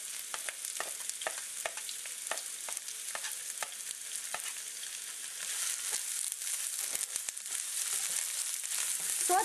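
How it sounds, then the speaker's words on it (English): Onion and garlic sauté in vegetable oil in a very large nonstick skillet, giving a steady, fairly quiet broadband sizzle with scattered soft stirring scrapes throughout, growing slightly louder in the second half. "Sauté until the garlic becomes fragrant."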